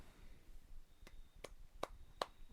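A few sharp hand claps, four separate strikes spaced about half a second apart, faint and close against a quiet room background.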